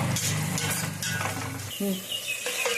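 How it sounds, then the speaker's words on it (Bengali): Onions sizzle in a hot pan as a utensil stirs and scrapes, brief clinks over a steady frying hiss. "পেঁয়াজটা একটু লাল লাল করে ভেজে নিতে হবে"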